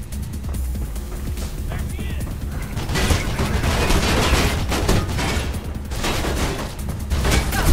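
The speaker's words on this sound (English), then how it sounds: "Stop shooting at me, please." Enemy gunfire rattles in the video game Mirror's Edge, dense overlapping bursts and sharp shots crackling loudly and continuously through the whole stretch.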